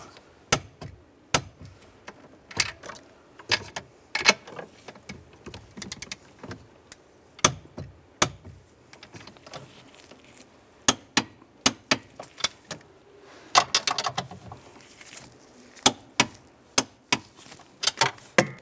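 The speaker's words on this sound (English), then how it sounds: "And now we're going to torque those to 20 foot-pounds" A torque wrench snugs bolts to 20 foot-pounds on a 2007-2013 Chevy Silverado steering column, giving a string of sharp, close metallic clicks and ratchet ticks at irregular intervals, with no voices.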